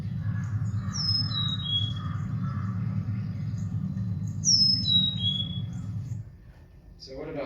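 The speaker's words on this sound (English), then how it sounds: "Here's another Carolina chickadee from Kansas doing a 3-note song" A Carolina chickadee in Maryland sings a clear three-note whistled song twice, each a falling series of pure notes, over a steady low background rumble.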